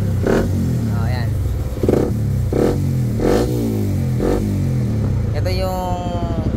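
Bajaj Raider 150 FI motorcycle with a remapped ECU, its engine idling loudly and nearby, then blipping through a series of sharp revs, with a longer climbing rev toward the end.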